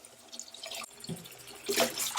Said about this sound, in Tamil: நிறைய தண்ணி ஊற்றிக்கணும் அப்படி கழுவுறப்ப தான் மண் கீழே செடிமெண்ட்டாகி நிற்கும்